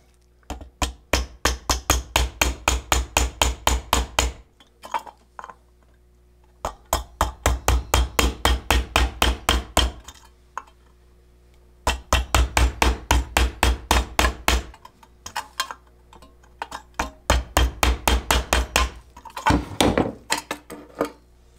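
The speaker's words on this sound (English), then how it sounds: "you want to be careful when you do use the hammer here" A hammer drives a nail into a tin can to make four holes for a penny-and-can emergency heater, in four bursts of rapid, ringing metallic strikes separated by short pauses.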